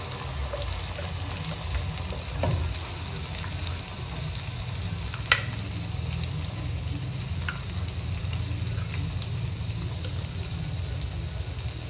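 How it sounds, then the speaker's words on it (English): Curry paste with ground spices and curry leaves frying in oil for Malaysian curry chicken, a steady soft sizzle with occasional small pops and light stirring clinks throughout. "we're going to fry this until it's cooked, aromatic, and the oil breaks at the top"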